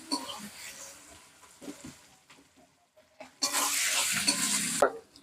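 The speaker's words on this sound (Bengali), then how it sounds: "মশলাটা ভালো করে ভেজে নিচ্ছি।" Spice paste fries in a hot pan under a spoon's stirring, with a burst of loud, close sizzling after quieter scraping, and a voice speaks briefly before it.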